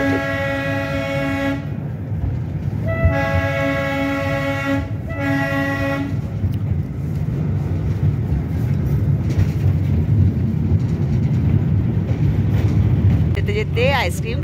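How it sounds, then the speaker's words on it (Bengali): The Darjeeling toy train rolls through misty mountain bends with a loud continuous rumble of wheels and carriages, cut by two long horn blasts early on and a brief whistle near the end, while voices talk over it. "আবার ট্রেন এগিয়ে চললো কুয়াশাঘেরা রাস্তার মধ্যে দিয়ে, আঁকে বাঁকে পাহাড়ের আঁকে বাঁকে ঘুরতে ঘুরতে আমাদের ট্রেন।"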